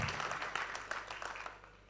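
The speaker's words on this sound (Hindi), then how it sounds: "एक बार ज़ोरदार तालियां बजा दीजिए।" Audience applause at a mushaira and kavi sammelan poetry gathering, a soft wash of many hands clapping that fades toward the end, heard at a distance and fairly quiet.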